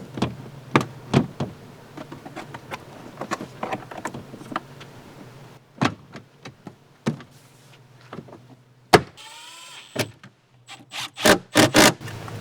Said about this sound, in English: now we're just gonna throw our weight savings door panel back on